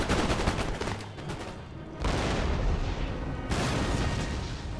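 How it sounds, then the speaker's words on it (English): Artillery and musket fire in the Empire: Total War video game, a dense continuous roar of rapid overlapping gunshots and booms, loud and sustained with a brief dip before the barrage resumes. "Ooh, excellent artillery shots."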